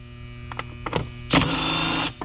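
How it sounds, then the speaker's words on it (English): Screws come out of a 2013 Ford Escape under an 8mm socket: a few light clicks and taps, then a close, steady powered whir lasting under a second before it stops. "All you need is a 8mm socket, and you just remove the 4 screws right here"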